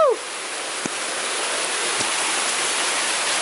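A waterfall at Valentim, Bahia pours in a loud, continuous broadband rush from close range, steady throughout with only faint brief sounds over it.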